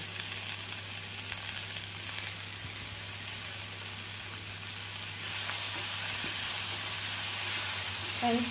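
Beans and carrot frying with onion in a pan give a continuous hiss that swells louder partway through, with a few faint stirring scrapes and no talking.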